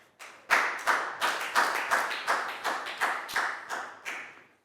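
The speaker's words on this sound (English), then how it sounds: "High five and a big round of applause for Nadia, guys." Applause in a primary school classroom: a dozen or so distinct, fairly sharp hand claps from a small group of children, coming in quick uneven bursts over a few seconds with no talking.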